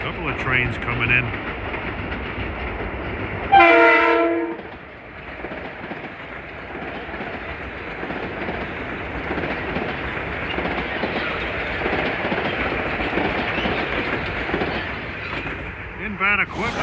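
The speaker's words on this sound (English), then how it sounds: "Couple of trains coming in." Metro-North Railroad trains pull in on the Harlem Line, a loud horn blast cutting over the steady rumble and clatter of rail cars that continues at a close, even level.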